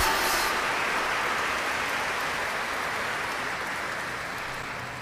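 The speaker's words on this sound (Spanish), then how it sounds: "Y que se oiga el aplauso a la Reina de la Paz" Audience applause honoring the Virgin as Queen of Peace at a Spanish-language Catholic religious gathering, a dense steady wash of clapping throughout that slowly fades toward the end, with no talk over it.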